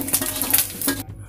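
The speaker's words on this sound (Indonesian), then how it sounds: "Minyak kita goreng dulu ya." Oil hisses and sizzles in a pan on the stove, a close, steady frying noise with faint clinks of cookware, cutting off abruptly after about a second.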